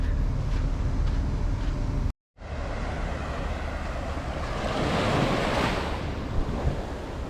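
Surf washing ashore on Seven Mile Beach in the Cayman Islands, a steady broadband roar of breaking waves with wind buffeting the microphone, briefly cut to silence early on, then swelling again in a louder wash.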